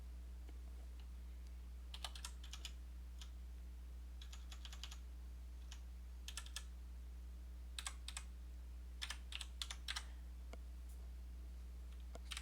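Typing on a computer keyboard while testing JavaScript functions in a browser console, heard as scattered bursts of quick clicking keystrokes with pauses between, fairly close, over a low steady electrical hum and no talking.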